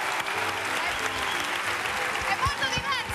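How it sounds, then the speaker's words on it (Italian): A TV studio audience at a 2005 Zelig Circus comedy show applauds in a steady wash of clapping, moderately loud, with voices and cheers faintly under it. "Un applauso a noi al pubblico."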